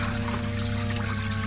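For a classic radio suspense drama, a fountain beside a stone basin splashes and pours in a steady, close trickle of running water, with a low hum beneath it.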